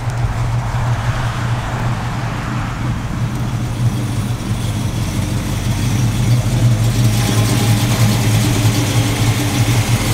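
A car engine idles steadily and loudly up close, a continuous low rumble with an even mechanical hum, running alone without speech, as an old-style way of heating the engine to clear carbon.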